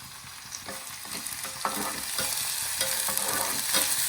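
Onion frying in a pan for a spicy Maharashtrian chicken liver (kaleji) fry, a steady close sizzle with light stirring scrapes across the pan and no voices.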